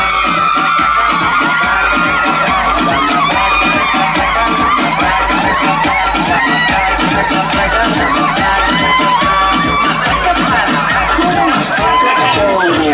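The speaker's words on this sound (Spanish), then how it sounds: "fuerte el aplauso para Rebeca" At a live stage show by the clown duo Espagueti y Frijolin, an audience breaks into sustained loud applause and cheering, with children shouting and whooping throughout the crowd noise.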